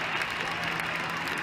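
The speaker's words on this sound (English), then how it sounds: "The crowd are going ballistic in here." Ice hockey arena crowd roaring through a players' fight at a Fife Flyers game, a dense, continuous wall of cheering and noise close around, with commentary voices layered underneath.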